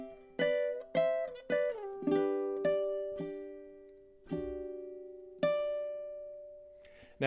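Fingerstyle ukulele playing measures five through eight of the folk song Shenandoah, slow plucked notes and chords ringing out one after another, close and clear with no talking.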